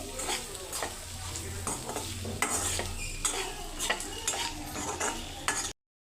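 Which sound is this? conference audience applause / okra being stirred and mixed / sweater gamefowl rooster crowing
okra being stirred and mixed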